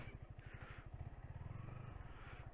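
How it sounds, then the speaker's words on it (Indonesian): A distant motorcycle engine putters steadily in a rhythmic low pulse near a rural oil palm plantation village in Nagan Raya, Aceh, faint but continuous throughout. "Kayak ada suara motor."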